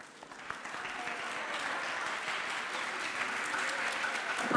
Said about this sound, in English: round of applause to welcome Rachel